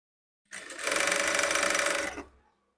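A sewing machine runs a quick burst of stitching along a blouse shoulder seam, starting abruptly, holding a fast even rattling whir for under two seconds, then winding down.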